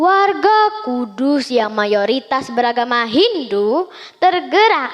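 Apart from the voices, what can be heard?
No distinct noise like a dog, phone or traffic.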